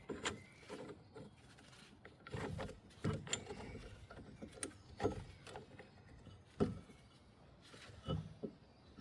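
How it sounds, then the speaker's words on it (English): A brake piston wind-back tool being turned against the caliper piston during a Brembo front brake disc and pad replacement, giving repeated close mechanical clicks and scraping turns in an irregular rhythm. "you want to turn this until it meets up with the piston."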